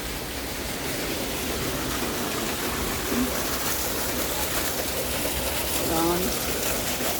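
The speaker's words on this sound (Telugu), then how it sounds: "చూడండి నీళ్ళు ఎలా వెళ్ళిపోతుంది" Rainwater rushes and flows outdoors during a downpour, a dense, even wash of sound that runs throughout, with a faint voice briefly audible beneath it.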